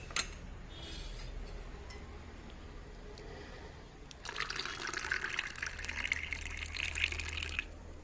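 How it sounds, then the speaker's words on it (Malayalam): Hot water is poured onto sugar and yeast in a bowl. After a few quiet seconds comes a close, continuous rushing splash that lasts about three seconds and then stops. "ആ വെള്ളമാണ് ഇതിലേക്ക് ഒഴിച്ച് കൊടുത്ത് ഇത് നന്നായിട്ട് ഇത് അടിച്ചെടുക്കണം"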